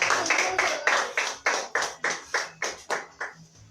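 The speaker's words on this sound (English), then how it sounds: "Clap for Master Jesus." A church congregation clapping hands in a steady rhythm, about a dozen sharp, loud claps in even succession that fade slightly toward the end.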